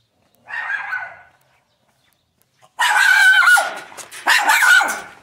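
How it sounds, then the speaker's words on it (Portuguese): Small dogs barking on a town street, one short burst of yapping followed after a pause by louder, overlapping volleys of barking from several dogs nearby. "Tem vários cachorrinhos aqui nessa rua, hein?"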